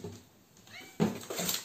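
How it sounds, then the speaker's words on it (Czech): A house cat meows close by, with two short, bright cries in quick succession following a quieter rustle. "Ten si takhle vymňoukal, jo?"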